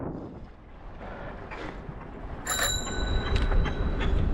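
Bicycle bell rung on a road ride, two bright metallic rings standing out over steady wind and traffic rumble, the second ring fainter than the first.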